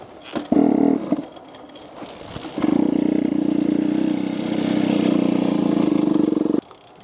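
A moped engine cranks after a spark plug change, sputters briefly, then catches and runs with a loud, steady buzzing idle for about four seconds before cutting off abruptly. No one talks over it.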